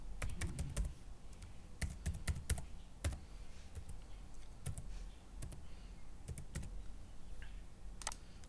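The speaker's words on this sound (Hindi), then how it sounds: "यहाँ पे हम लोग पासवर्ड डालेंगे।" Quick clusters of key presses on a computer keyboard as a password is typed, crisp nearby clicks coming in uneven runs against low background noise, with no voices.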